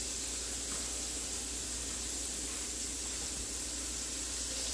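Chicken cutlets for chicken Marsala sizzle in a pan with a steady, even hiss that runs close and unbroken the whole time, with no talking.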